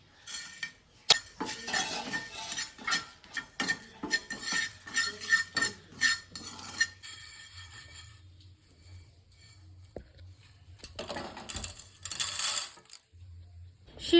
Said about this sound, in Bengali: শুকনো খোলায় জিরে দুটো শুকনো লঙ্কা আর মৌরি ভেজে নেবো